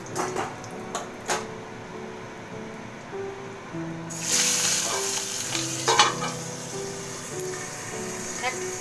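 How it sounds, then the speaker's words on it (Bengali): Boal fish pieces frying lightly in hot oil in a home kitchen, a steady sizzle that swells louder partway through, with utensil clinks and stirring scrapes; a voice speaks briefly. "এক এক করে সমস্ত মাছই ভেজে তুলে নিচ্ছি।"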